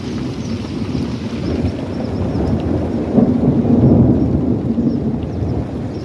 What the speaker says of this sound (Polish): Piękna burza baldurek, tak?